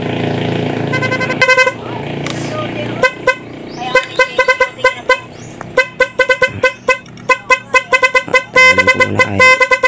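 A car horn wired to two wires honks repeatedly in short bursts, some long blasts and many quick beeps in an uneven rhythm, loud and close.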